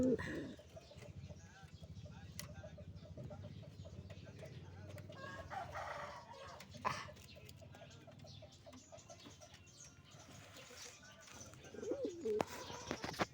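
Pigeons coo faintly at a street corner, soft murmuring calls scattered through a quiet background, with occasional handling noises and a few louder knocks.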